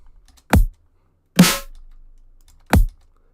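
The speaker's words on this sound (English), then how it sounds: "Now the kick sounds bad." A kick drum sample generated by Stable Audio Open plays three separate, sharp and thin hits, one with a longer fading tail, in near silence.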